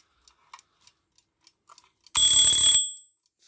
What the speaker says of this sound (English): You have the alarm knob, setting the time you want the alarm to go off.